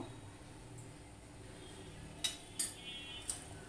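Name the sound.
stirring sugar into a pot with a spoon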